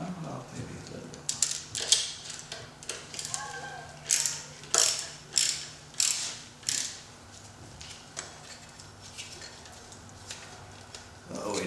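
A ratchet tightens the connector on a car's intake air temperature sensor, giving bursts of close clicking and rapid pawl ticks with pauses between strokes over faint background.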